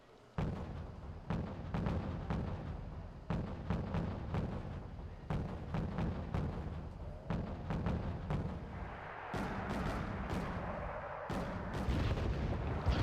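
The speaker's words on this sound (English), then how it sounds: "I'm going to use my mortars to do it" Mortar artillery in the Red Dragon strategy game, a series of sharp booming launches and impacts at irregular intervals, over a dozen shots with rumbling tails, later joined by a hissing roar of fire.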